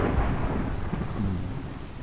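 Deep thunder rumbles continuously beneath steady rain pattering on a surface, loud and enveloping with no voices.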